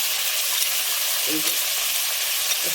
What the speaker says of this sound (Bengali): এই তিনটে একসাথে ভাজা হয়ে যাবে